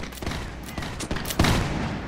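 Light infantry in the Napoleonic warfare video game L'Aigle fire a musket volley, a dense, ragged crackle of overlapping shots that swells loudly and keeps rolling, with no voices over it.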